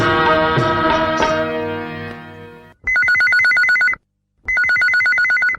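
Telephone ringtone on a Chhattisgarhi phone-in song show, two electronic ring bursts with a pause between them, following a fading musical tone.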